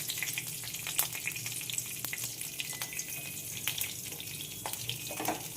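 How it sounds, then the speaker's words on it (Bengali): Nigella seeds and green chilies temper in hot oil with a continuous faint sizzle and scattered small crackles and pops, steady throughout with no talk. "কালো জিরে, কাঁচা লঙ্কা ফোড়ন দিয়ে ভালো লাগে খেতে"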